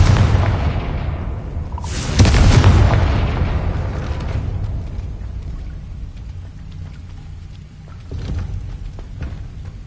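A Confringo fire-blast spell in Hogwarts Legacy blows open a gate with a loud booming explosion, then a long rumbling, crackling roar of debris fades away, followed by a second smaller burst.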